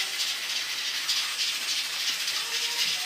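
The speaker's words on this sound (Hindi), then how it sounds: "कुकर की आवाज़ आपको डिस्टर्ब कर रही होगी" A pressure cooker hisses continuously on the stove while a chicken curry is being prepared, a close, steady bright steam hiss with a faint rattle beneath it and no talking over it.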